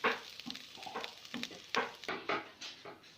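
Poppy seeds (khashkhash) roasting in a little ghee while being stirred, giving a steady soft sizzle broken by irregular scraping strokes of the spoon against the pan, close and fairly quiet.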